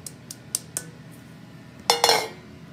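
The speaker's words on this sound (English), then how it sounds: "now I will mix both of flour together" Two kinds of flour are mixed in a bowl for a mugwort grass cake: a few light metallic taps of a utensil, then a louder burst of scraping and clinking against the bowl, close.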